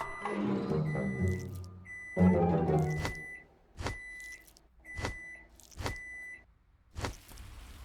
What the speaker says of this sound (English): The microwave suddenly went crazy